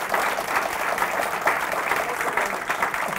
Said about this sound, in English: Let us give Professor Goldstone a round of applause